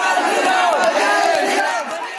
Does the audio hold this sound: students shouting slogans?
yes